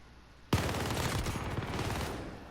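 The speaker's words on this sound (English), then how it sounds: "This man fired before even walking around the bend." Gunfire in the video game Call of Duty: Modern Warfare, a sudden loud burst of rapid automatic shots that rattles on for about two seconds before tapering off, with no talk.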